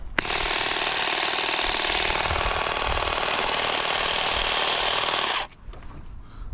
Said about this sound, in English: It doesn't actually sound like it's very powerful, but it's certainly cutting well.